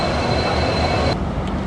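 A passenger train pulls out of platform 3 at Agartala station, a loud, steady rumble of wheels and carriages that holds throughout, with a thin high whine that cuts out partway through.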